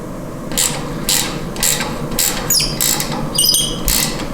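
A wrench tightens down the adjustment on a reel mower, giving a close, loud series of about seven rhythmic ratcheting strokes with metallic squeaks between them.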